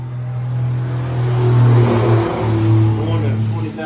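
Diesel tanker truck hauling gasoline passes close by, a loud low engine drone that swells and holds for several seconds with a steady rumble.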